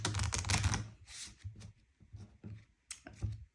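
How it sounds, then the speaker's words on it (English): Two sets of playing cards are shuffled together into a single deck for a solitaire game, giving close, crisp bursts of riffling and flicking with short pauses between them. "You're going to take both of these sets of cards and then you're going to shuffle them into a singular deck."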